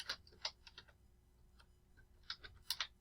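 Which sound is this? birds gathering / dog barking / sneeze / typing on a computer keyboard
typing on a computer keyboard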